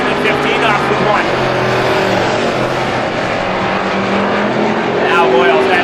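Race cars roar around a tight quarter-mile bull ring at Star Speedway during strictly stock heat racing, a loud continuous engine drone with shifting pitch as cars pass, under a commentator's steady play-by-play.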